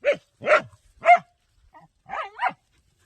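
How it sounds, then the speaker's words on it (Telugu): A dog barks at a snake in a rapid series of short, sharp barks, about five in all, with brief pauses between them, fairly close and loud. "చూడండి కుక్క అయితే దాన్ని చూసి మురుగుతుంది అనమాట నేరేస్తుంది"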